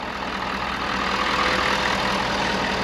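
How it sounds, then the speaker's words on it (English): A Ford F-550 truck engine idles steadily with a dense, even rumble and hum that holds at the same level throughout, with no voices. "I have the engine running because a little compressor pulled a lot of battery."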